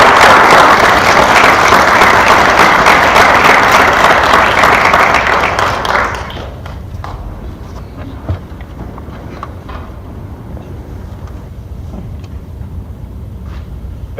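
A lecture audience at a university event applauds loudly and steadily as a speaker is welcomed to the stage, the clapping dense and close before fading out abruptly, leaving a quiet room murmur.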